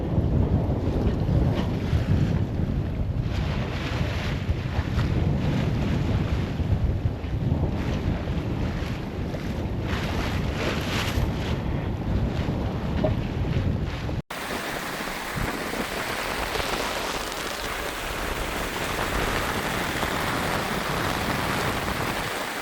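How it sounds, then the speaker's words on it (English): Steady wind rushes and buffets around a sailboat heading into an anchorage at the end of an Atlantic crossing, with waves washing against the hull throughout and a sharp cut partway where the wind noise changes character. "All this wind will disappear."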